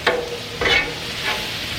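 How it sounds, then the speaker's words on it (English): Bread toasts on a Blackstone griddle while a Philly cheesesteak is cooked, with three spaced spatula scrapes cutting through a soft, continuous sizzle close by. "the bread's toasting up nice"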